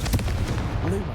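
Confringo fire-blast spell cast in the video game Hogwarts Legacy, a dense booming burst with crackling impacts, loud and close, with a voice faintly present underneath.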